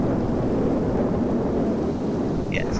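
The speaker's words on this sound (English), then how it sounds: "Yes, there's lightning and a hurricane in this." Steady, loud roar of wind and rumbling thunder from a hurricane in the video game Minecraft, a dense broadband storm wash filling the whole stretch with no talk.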